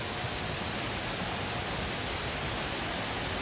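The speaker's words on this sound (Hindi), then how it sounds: "बहुत खूबसूरत वाटरफॉल है यार।" A waterfall at a temple garden in Bali roars as steady, dense broadband wash, continuous and even throughout with no voices.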